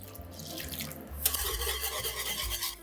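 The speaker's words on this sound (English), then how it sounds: "we're gonna add about a cup of milk" About a cup of milk pours into a pan of whisked gravy base, a wet splashing and running-liquid sound with light stirring. The sound thickens partway through and continues without speech.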